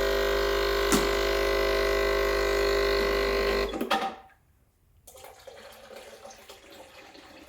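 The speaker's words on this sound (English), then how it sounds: "fill up your cup with hot water" A steady stream of hot water hisses and pours from a Breville Barista Express BES870 espresso machine into a cup for several seconds, then cuts off, leaving quiet room noise.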